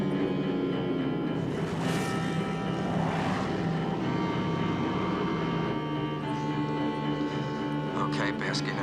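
Aircraft from a wartime fighter squadron approach through a steady droning engine roar, with swelling passes around the middle of the stretch and voices speaking over the noise.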